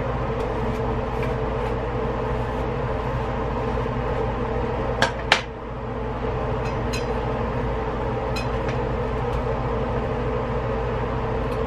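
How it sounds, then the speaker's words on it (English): A bathroom exhaust fan running indoors, a steady, fairly loud whooshing drone that fills the whole stretch, broken only by a couple of brief knocks near the middle. "Again, I'm sorry for the bathroom fan."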